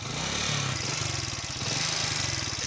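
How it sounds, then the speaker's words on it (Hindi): A motorcycle engine runs close by, its pulsing low rumble rising briefly as the throttle grip is turned on a bike with a fault that has the throttle working in reverse. "ये चेक करो भाई साहब, इस साइड इसको घुमाओ तब जाके बाइक रेस पकड़ती है, इस साइड घुमाओ बाइक बंद।"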